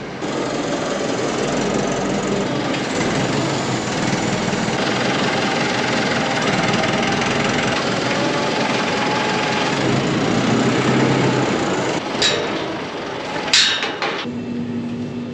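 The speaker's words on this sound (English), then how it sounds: "The cattle had no hay, so Daniel took the tractor for a quick ride to pick up a bale, and now the cattle are happy." A steady tractor engine rumbles continuously at close range on a farm, with a brief clatter and a few sharper knocks near the end.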